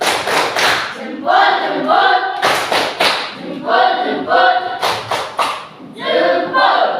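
A classroom does a rhythmic clapping cheer (tepuk jempol): three loud bursts of group claps and thumps alternating with chanting voices.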